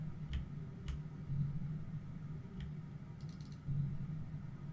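Computer keyboard keys click sharply a few times while EVE Online is played, faint and close over a low steady hum, with no talking.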